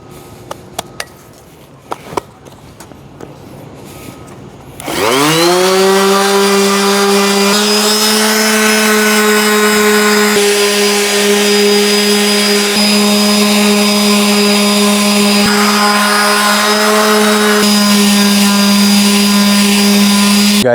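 An orbital sander with an 800-grit disc works a metal Land Rover Defender grille, starting abruptly after a few seconds of quiet handling noises and then holding a loud, steady, whining drone with strong harmonics.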